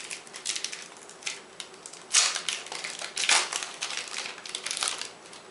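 An Innistrad Magic: The Gathering booster wrapper is torn and crinkled open, with bursts of crisp, close-up foil crackling and rustling that come in uneven waves.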